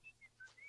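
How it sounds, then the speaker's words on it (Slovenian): Faint, thin high-pitched whistling tones in short separate bursts, one after another, quiet and somewhat distant. "Žvižga alarm."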